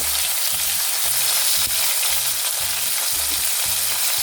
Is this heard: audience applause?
no